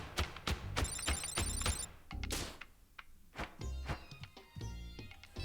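A phone rings in the video game Thirsty Suitors, with repeated bright electronic ringing bursts over game sound effects and thumps.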